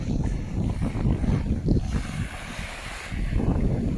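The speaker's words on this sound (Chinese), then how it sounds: "大海的波涛啊" Sea waves surge and break near a deep, rocky shore at Weihai on the Chinese coast, a continuous loud rumble and wash mixed with heavy wind buffeting the microphone.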